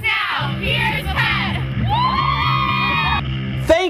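A school cheer squad at a football broadcast yells and whoops together in a loud, close burst of overlapping young voices, sustained shouts and rising calls over a steady beat.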